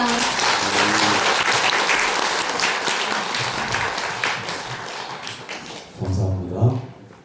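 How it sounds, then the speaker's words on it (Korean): A church congregation claps together in praise during a Sunday service at Yongjin Shinkwang Church, a sustained burst of applause that thins out as a voice begins speaking over the last seconds. "아버지께 영광의 박수 올려드리겠습니다."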